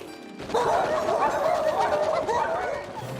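Cartoon dogs bark and yip in an animated pony series, a busy run of sharp yaps and whimpers layered over a dense music and effects bed, loud and close.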